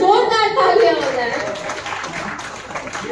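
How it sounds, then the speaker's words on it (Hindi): An audience at a literary festival claps in a brief, fairly loud burst of applause that gradually thins out, with voices audible over the clapping. "भाई एक बार जोरदार तालियां हो जाए।"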